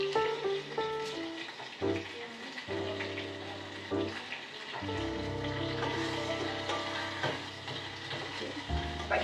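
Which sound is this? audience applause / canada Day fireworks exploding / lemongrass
lemongrass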